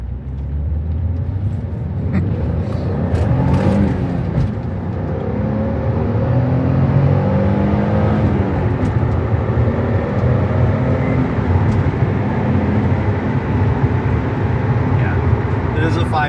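A 1994 Nissan 300ZX twin turbo with about 80k miles and a 5-speed transmission drives along, its steady engine hum and road rumble continuous throughout while someone talks over it.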